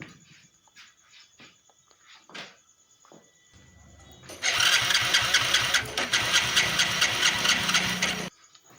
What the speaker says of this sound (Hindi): तो मैं इसमें सेल्फ अप्लाई करके चेकआउट कर लेता हूँ।